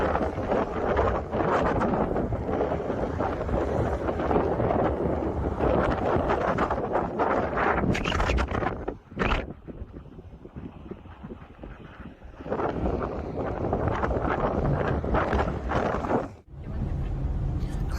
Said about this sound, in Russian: Очень-очень ветрено.